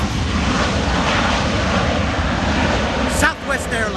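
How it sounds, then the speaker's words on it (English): An airliner's thrust reversers roar on landing, a loud, continuous broadband rush that holds steady before dipping briefly near the end, with a voice speaking over it. "Thrust reverser."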